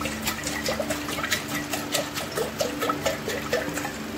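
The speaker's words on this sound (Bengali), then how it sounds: "জলটা দিয়ে নিই।" Water pours steadily into a container for lemon sherbet, a close, continuous splashing and trickling with small gurgling pulses.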